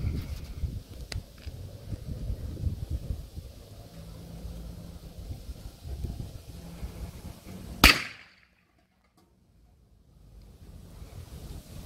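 Bruni Model 92 9mm PAK blank pistol loaded with rubber bullets fires one sharp, loud shot outdoors at about 5 to 6 metres, breaking through steady wind and surf noise before a brief near-silence.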